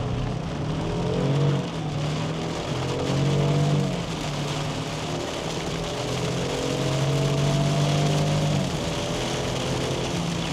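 A Land Rover Defender SUV accelerates hard from a standstill in the rain, its engine note climbing in repeated surges over a steady wash of rain and road noise, with no talking.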